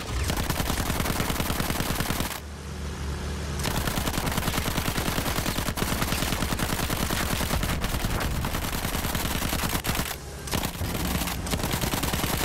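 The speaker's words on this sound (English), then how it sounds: "the cavalry rifle is actually really powerful." Dense, continuous gunfire from a cavalry rifle and other weapons in a multiplayer war video game, loud rapid shots layered throughout with brief gaps, no talking.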